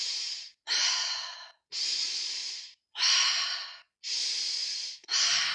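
Deep, forceful breaths during a breathing exercise, about six long airy inhales and exhales in steady rhythm, each separated by a brief pause, close and loud.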